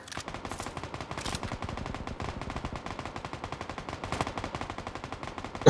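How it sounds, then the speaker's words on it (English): Rapid, sustained MG49 machine gun fire in a PUBG match crackles steadily throughout, dense bursts of sharp gunshots at moderate distance with no speech. "he's got an MG49"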